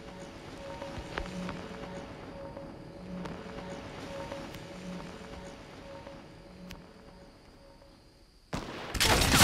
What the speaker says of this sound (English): I think someone's shooting me.